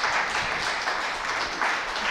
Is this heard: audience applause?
yes